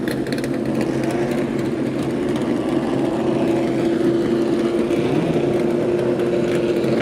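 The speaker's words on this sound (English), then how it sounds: "as loud as these cars are." Historic race cars at Daytona International Speedway produce a loud, steady engine drone with a sustained low tone that holds for several seconds, without any voices.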